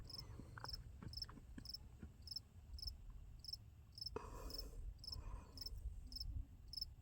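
A cricket chirps steadily in short, evenly spaced pulses, faint against quiet outdoor ambience at a rocky lookout, alone and unhurried.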